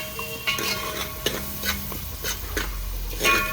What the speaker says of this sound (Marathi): कांदा चांगला मऊ शिजेपर्यंत परतून घ्यायचा आहे